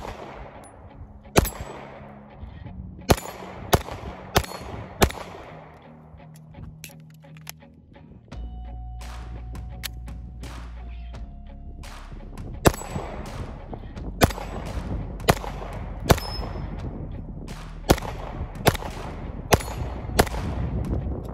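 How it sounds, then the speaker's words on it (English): Handgun shots fired at steel targets on an outdoor range with a Truglo Tru-Tec Micro red dot sight: a dozen or more sharp, loud cracks at irregular intervals over a low background rumble. "let's put some rounds on steel, see if we can hit it"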